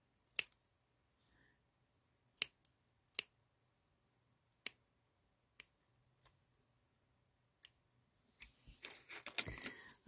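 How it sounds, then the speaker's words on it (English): Scissors trim the overhang of rickrack on a crocheted Easter egg in a quiet room, giving about ten sharp, isolated snips spaced a second or two apart, followed by soft rustling handling noise. "now I'm just going to trim the overhang on both sides here"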